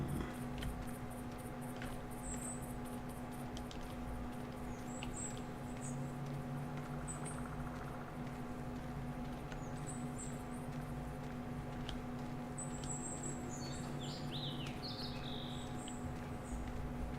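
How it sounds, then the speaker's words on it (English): Small birds chirp and twitter intermittently in the distance outdoors, light high calls scattered over a steady low hum and faint background noise. "I mean, that's just birds right now"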